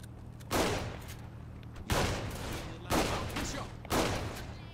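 Gunfire and explosions in the video game Saints Row The Third ring out as four loud, evenly spaced bursts, each decaying into a rumbling tail.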